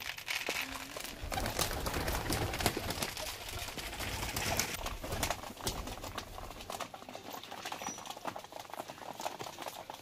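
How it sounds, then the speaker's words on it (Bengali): Pigeons in a rooftop loft coo and flutter amid rapid clattering and rustling, with sharp wing claps and scuffling over soft background chatter. "এইটা হচ্ছে মাদা পায়রা"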